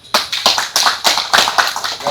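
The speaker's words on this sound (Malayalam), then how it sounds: "കൈയടിക്ക്" Applause at a prize-giving ceremony after a penalty shootout for elderly men, with Lions Club cloth prizes awarded; a steady patter of close hand claps from a small group runs for a couple of seconds.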